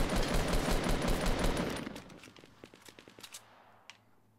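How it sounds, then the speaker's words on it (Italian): Bursts of automatic gunfire crackle outside in Fortnite Battle Royale, loud rapid fire at first, then breaking into scattered single shots that fade into the distance. No one speaks. "Avete indubbiamente sparato qui fuori."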